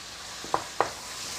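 Chicken breast meat frying in a pan with rice and vegetables, a steady sizzle with two sharp stirring clinks close by and no talking.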